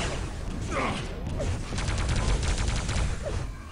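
Rocket launcher fire in a Quake Live match, a dense rapid stream of blasts and explosions with whooshing projectiles, loud and continuous through the whole stretch.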